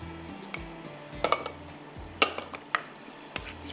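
A spoon scrapes and clinks against a metal pan while salt, nigella, fennel and mustard seeds are stirred together, giving a few sharp metallic taps and scrapes at close range over a low background hum.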